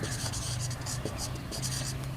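A pen writes a definition in a chemistry lesson, making soft continuous scratching strokes up close under a steady, hissy background.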